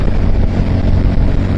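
Strong wind roars in a loud, constant rush against a motorbike being ridden at speed, with no voices.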